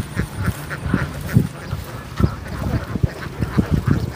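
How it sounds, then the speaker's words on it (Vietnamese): Laying ducks quacking repeatedly in an uneven chorus, several nasal calls close by and overlapping, with no talk. "Vịt đẻ này chạy"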